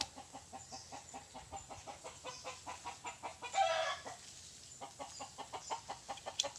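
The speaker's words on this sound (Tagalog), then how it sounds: "May manok." Chickens cluck in a steady, rhythmic series close by, with a brief louder squawk partway through and outdoor background noise.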